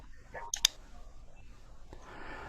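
A computer mouse clicks the microphone button in Google Docs: two quick, crisp clicks close together, near and fairly soft, against a quiet room background.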